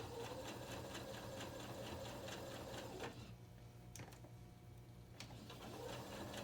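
Sewing machine stitching through layers of fabric and rope for a dog pull toy, a fast steady mechanical whir that pauses briefly midway with a couple of clicks, then resumes; fairly quiet and close.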